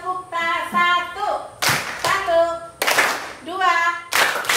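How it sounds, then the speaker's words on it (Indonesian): Children in an elementary school classroom clap their hands in short, sharp bursts, with several separate rounds of clapping between stretches of voices and chanting. "Mari kita tepuk tangan 1 kali dulu."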